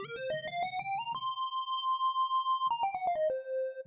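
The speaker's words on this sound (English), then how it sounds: "we want to play a lead sound like this car's lead" Lead synth patch on a Kurzweil Forte plays a short melody: quick stepping notes rise to a long held tone, then a run of notes descends, bright and buzzy with no talking.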